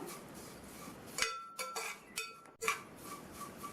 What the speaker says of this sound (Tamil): 1/2 கப்பு வறுத்த சேமியாவை சேர்த்துட்டு வறுத்துக்கலாம்